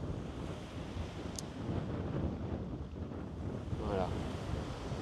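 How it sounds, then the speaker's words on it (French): Wind blowing hard along the seafront at Collioure, a steady broadband rush buffeting the microphone for the whole stretch, with no pauses or voices. "on est à Collioure, il y a vraiment du vent de partout."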